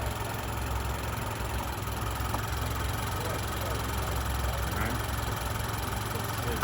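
The 2.7-litre L3B four-cylinder of a 2023 Chevy Colorado idles with a steady, even low hum and a faint high whine, close and constant.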